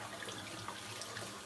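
Tap water runs steadily into a sink to rinse a vintage Coach bag, a soft continuous splashing hiss that is close but quiet and carries no talk.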